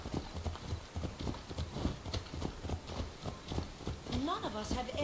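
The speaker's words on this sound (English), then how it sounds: "We're on horses. Why are we moving so slow?" Rapid hoofbeats of galloping horses clatter in a steady rhythm in the game Assassin's Creed Odyssey, with a voice speaking over them and a horse's whinny near the end.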